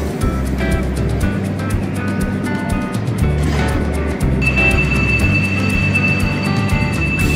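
Whoosh high-speed train at the Tegaluar station platform before departing for Halim, with a steady low rumble of the train, a door-closing alarm tone that sounds partway through, and a faint hum continuing underneath.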